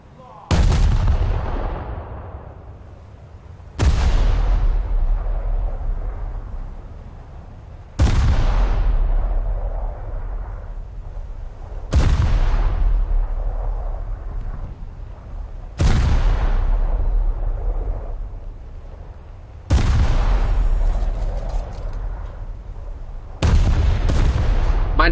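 Anti-aircraft guns in a video game fire heavy, booming shots about every four seconds, seven in all. Each blast is loud and deep, and its long rumbling tail fades before the next round.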